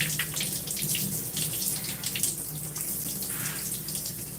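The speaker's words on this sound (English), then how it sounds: "Just trying to wet my hair and to rinse all the product as much as possible from my hair." Steady running water from a tap poured over hair to rinse out styling product during a wash-and-go routine, a continuous close splashing hiss that shifts slightly as the stream moves.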